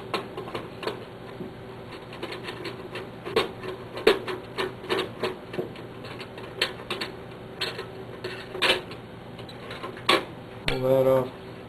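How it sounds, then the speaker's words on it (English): Clicks and metallic snaps from unscrewing Phillips screws and prying metal clips off a Bloomfield 8572 unit, irregular close taps and rattles ending in a short burst of clatter, with quiet talk in the background. "Pop these metal clips off, held in with a Phillips screw."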